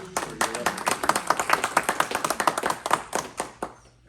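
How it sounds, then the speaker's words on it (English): An audience claps at a Reedley lab legislation announcement, a brisk run of close individual claps that fades out after a few seconds. "we'll give you a round of applause for your"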